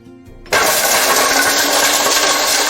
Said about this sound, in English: Equipped with state-of-the-art carbide shredding blades and quick display technology, DeForm 1 is designed to handle even the toughest of tough materials